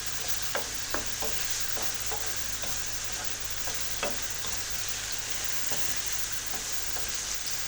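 Bitter gourd and tomato sautéing in hot oil, a steady close sizzle broken by repeated scrapes and clicks of a stirring utensil against the pan.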